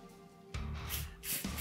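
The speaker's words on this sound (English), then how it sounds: "take the CRC and spray it over on it too" Aerosol CRC electronics cleaner sprayed onto a delidded Intel 9900K processor, several close hissing bursts starting after a short quiet pause.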